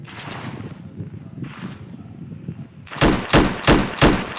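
Roblox gunfire cuts in after a stretch of muffled background noise: four or five loud, punchy shots in quick rhythm, close and sharp.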